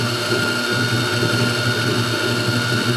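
A Kitchen in the Box stand mixer with an all-metal motor runs at a constant speed, producing a loud, steady mechanical whir and hum close by with no talk.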